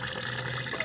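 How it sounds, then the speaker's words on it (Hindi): Fresh water runs from a tap into a metal lota at a poultry and bird farm, a steady close gushing fill with no voices. "अभी हम ये लोटा भर देंगे क्योंकि पानी कल का था तो फ्रेश पानी भी इसको दिए जाएंगे।"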